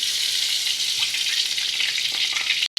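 Mustard seeds dropped into hot oil sizzle with a loud, steady, close hiss and faint crackles, without pause until a brief cut near the end.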